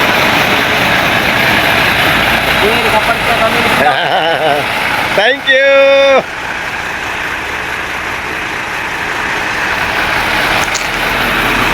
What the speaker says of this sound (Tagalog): Pasensya na, maingay. Dahil maraming truck lang dumating.